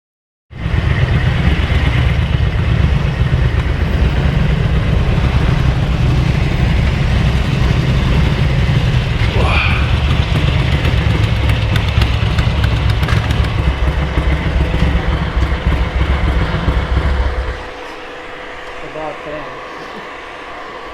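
A Ducati 900SS Bevel motorcycle engine runs loud and steady while riding, a constant low rumble with wind noise that drops sharply to a quieter idle near the end.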